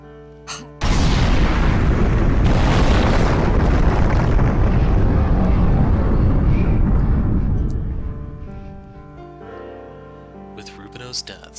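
Explosion in the visual novel Dies Irae, a sudden loud boom that swells into a long, dense roar lasting several seconds, then dies away into quieter game music with a few sharp hits near the end.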